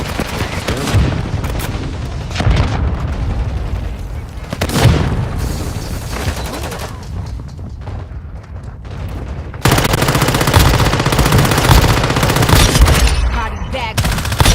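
In the Warzone Mobile shooter game, a loud grenade blast and bursts of gunfire, sustained and heavy, with rapid automatic fire dominating the last several seconds and no clear talking.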